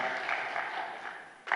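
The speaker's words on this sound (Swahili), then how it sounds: "Naomba tupige makofi mengi." Audience applause at a State House book launch for women judges in Tanzania, a steady, moderately loud patter of many hands clapping that fades slightly before a brief louder burst at the end.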